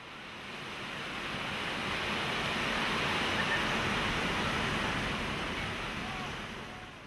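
Ocean surf at Hapuna Beach on Hawaii's Big Island, a white sand beach along the Pacific bordered by black volcanic rocks: a broad, steady roar of breaking waves swells up and fades away, loud and continuous, with some wind noise.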